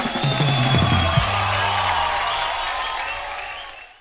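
Loud audience applause, many hands clapping together, fading away toward the end; a low musical tone sounds briefly at the start.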